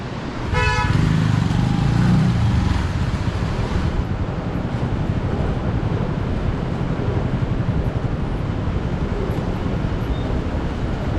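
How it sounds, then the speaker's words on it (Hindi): A vehicle honks from behind on a narrow Kailash Mansarovar mountain road near a landslide, a short string of horn toots at the start over loud, continuous engine and road rumble that persists throughout. "पीछे से गाड़ी आ रही है"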